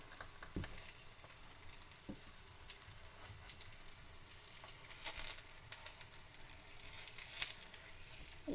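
Chicken and vegetable roti cooking on a low flame, Sri Lankan style: a soft, steady sizzle and crackle of frying with scattered faint pops and scraping stirs, quiet and continuous throughout.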